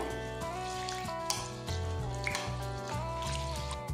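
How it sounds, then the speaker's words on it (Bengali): Red lentils are washed by hand in water in a bowl, with soft dripping and sloshing under a steady background of tonal music, quiet and close. "এবার এই ডালটা 4 থেকে 5 বার ভালো করে ধুয়ে নিতে হবে।"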